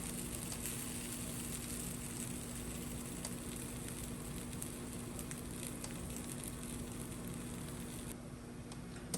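French toast bread cooks on a hot griddle, giving a steady, even sizzle that holds for several seconds with faint crackles and no talk.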